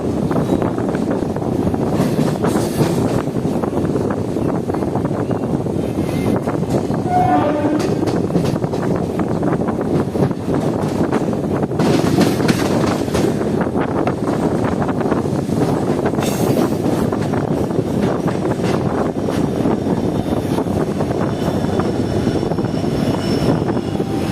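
Howrah–Midnapore fast local train running, a loud continuous rumble and roar of the moving train with steady rattling throughout and no talk.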